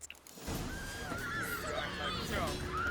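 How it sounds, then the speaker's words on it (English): A horse in the video game The Witcher 3 gives a loud, drawn-out whinny over a noisy fight scene, with shouting voices in the background. "Kill the horses!"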